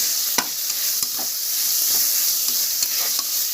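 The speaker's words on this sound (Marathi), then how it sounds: "आणि 1 चमची हिंग घालूया. चांगलं पसरून घेऊया." A teaspoon of asafoetida goes into hot oil for masale bhat and is stirred, giving a steady loud sizzle with a few sharp spoon scrapes against the pan.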